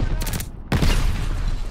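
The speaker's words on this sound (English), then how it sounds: "Goliath detonated." A Goliath explosive detonates in Call of Duty: Vanguard, a sudden loud broadband blast that cuts in after a brief gap and trails into rumbling battle noise, with scattered gunfire around it.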